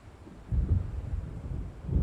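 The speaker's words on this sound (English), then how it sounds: "It seems there's a storm coming." Low, rolling rumble of thunder from an approaching storm by the sea in the Alan Wake video game, a distant deep swell that rises and lingers with wind.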